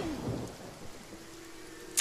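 Rain with low rumbling thunder in the Divinity: Original Sin video game, a steady soft wash with a brief louder crack at the very end, no voices.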